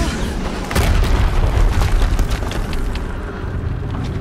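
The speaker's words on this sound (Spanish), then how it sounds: "Vale, son explosiones." Deep booming explosions rumble in the game Horizon Zero Dawn, a heavy low roar that swells after the first second and keeps rolling with scattered bursts before easing slightly.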